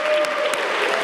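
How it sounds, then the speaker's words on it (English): Applause for the state champion cheerleaders of John Hay High School at a Cleveland city council meeting, a dense, steady wash of many hands clapping throughout. "let's give them a round of applause."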